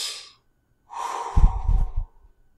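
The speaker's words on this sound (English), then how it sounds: "the pause breath" A slow, deliberate breath taken during a breathing exercise for raising one's frequencies: a soft breathy exhale, a pause of silence, then a longer audible breath with some low rumbling, close and alone.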